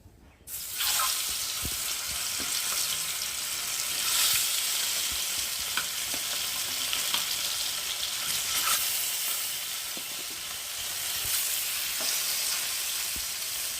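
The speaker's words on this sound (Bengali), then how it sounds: "এখন এই যে রুই মাছগুলোকে একে একে ভেজে নেব" Rohu fish pieces fry in hot oil in a pan on the stove, a loud, close, continuous crackling sizzle that runs steadily with small pops throughout and no talking.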